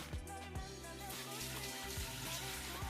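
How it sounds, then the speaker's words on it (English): Hot water pours steadily into a Ninja Foodi pressure cooker's metal pot, a continuous splashing gush with a hollow ring, close and fairly loud, no voices. "I'm going to add some water in the bottom of the pressure cooker"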